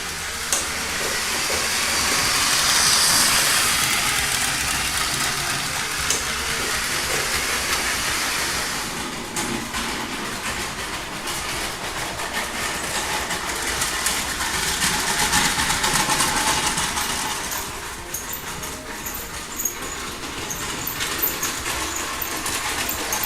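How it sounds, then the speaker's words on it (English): Powered LEGO trains running over a small custom drawbridge, a steady close whirring and rattling hiss that swells and fades as they pass, with no talking. "So let's go ahead and see some trains going over this."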